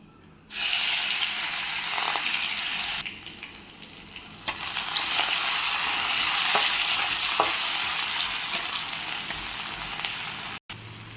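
Crushed garlic, cumin and black pepper hitting hot oil with blackened dried red chillies for a tomato rasam, bursting into a loud, steady sizzle with a few sharp spoon scrapes and clinks.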